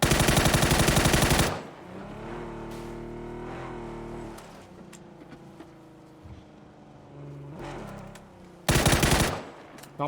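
Bursts of automatic gunfire in the shooting game PUBG, a dense loud volley at the start and another near the end, with a vehicle engine rumbling between them.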